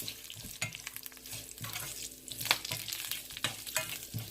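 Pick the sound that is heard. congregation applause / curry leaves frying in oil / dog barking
curry leaves frying in oil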